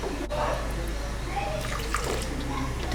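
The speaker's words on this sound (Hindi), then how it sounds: "अब इसमें हम थोड़ा सा पानी डालकर ऐड करेंगे।" Water poured into a bowl of ground chana dal chutney ingredients, a soft, continuous splashing trickle running throughout with faint background noise.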